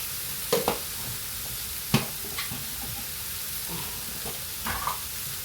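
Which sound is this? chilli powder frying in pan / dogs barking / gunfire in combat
chilli powder frying in pan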